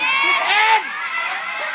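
An audience cheers for an announced new member at a results event, a brief burst of excited shouting and whooping from a crowd that includes children's voices.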